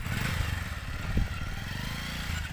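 Hero Splendor 100cc and Bajaj Pulsar 180cc motorcycles straining against each other in a tug of war, a steady low engine drone with a brief louder surge midway, close and continuous with no talk.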